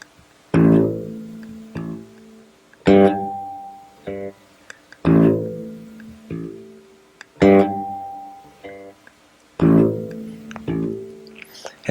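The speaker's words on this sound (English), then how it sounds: "I try to make it sound like this: alternate loud and soft at first." Bass guitar notes played in an instructional lesson, alternating loud and soft plucks in a steady repeating pattern, each loud note ringing out before quieter follow-up notes, close and clear with no talking.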